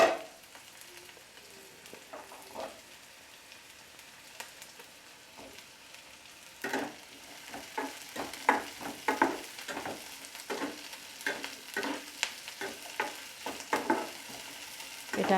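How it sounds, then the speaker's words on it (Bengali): Chopped capsicum fries over medium heat in a pan with carrot for pasta, a soft sizzle broken by bursts of scraping stirring strokes that grow busier and louder in the second half, no talk. "এবার আমি এর মধ্যে দিয়ে দেবো ক্যাপসিকাম কুচি।"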